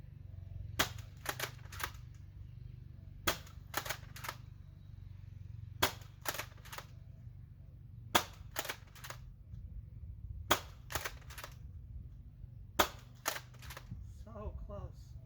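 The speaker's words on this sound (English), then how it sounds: "I've got my Dart Zone Pro, and I am shooting their bamboo half darts" A Dart Zone Pro Nerf blaster fires bamboo half darts in short bursts of two to four sharp snapping shots, repeated every couple of seconds, with low background rumble between volleys.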